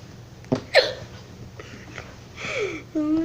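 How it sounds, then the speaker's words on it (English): A person hiccups several times in short, sharp vocal bursts spread irregularly across a few seconds, close and fairly loud. "Oh no, the hiccups."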